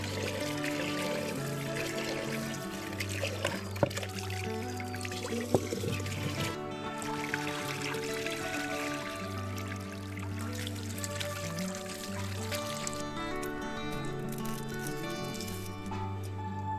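Rice and pigeon pea lentils being washed in water for khichdi, a steady close wet patter and sloshing of grains and liquid running throughout with a few sharper knocks, no talk.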